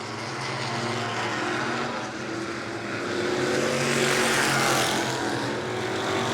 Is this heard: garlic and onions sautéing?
no